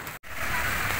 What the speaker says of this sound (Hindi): देखो बारिश हो रही है